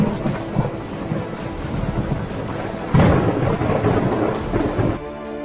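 Distant rain and a thunderstorm: steady, heavy rain hiss with deep rolling thunder, a louder rumble swelling midway, blended with wind noise across the whole stretch and no voices.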